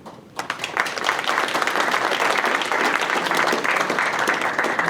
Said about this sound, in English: I would ask you to hold the applause